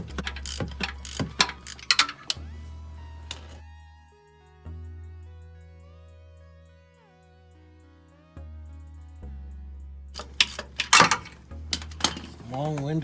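A ratchet backing out a long starter bolt on a 2001–2007 Dodge Grand Caravan, with bursts of rapid clicking at the start and end and a quieter stretch between, close by.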